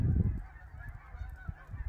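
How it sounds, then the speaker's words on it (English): A flock of geese honks, the calls layered and continuous, with a burst of low flapping at the start as they lift off. "Hear the geese taking flight there."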